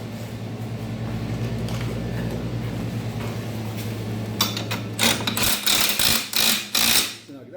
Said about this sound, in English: So I'm just going to snug it with the impact